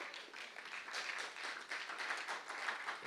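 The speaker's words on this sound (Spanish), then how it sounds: "¿Quieren darle un aplauso al Señor" Church congregation applauding together, a faint, distant wash of clapping that stays steady for about three seconds.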